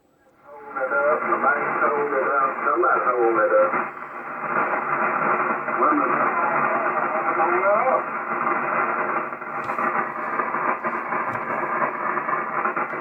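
Severe atmospheric static on a Yaesu FTdx3000 transceiver tuned to 80 m SSB with an end-fed half-wave antenna, a loud, constant band-limited hiss and crackle with faint garbled voices buried in the noise.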